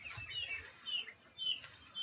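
Small birds in a home nest box give faint, thin chirps in short spaced bursts, soft and close with little else around.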